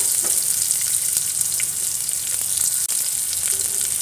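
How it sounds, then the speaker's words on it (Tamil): Two cut large onions fry in a pan with fennel seeds, making a loud, continuous, close hiss of sizzling oil with faint crackles and no break. "இப்போ பெரிய வெங்காயம் ரெண்டு கட் பண்ணி வச்சுருக்கேன் அது போட்டுக்கலாம்"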